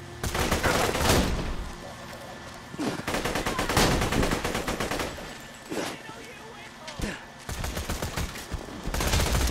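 Rapid automatic gunfire from the shooter game Borderlands 2 comes in several loud bursts of dense, crackling shots separated by brief pauses. A player talks between the volleys.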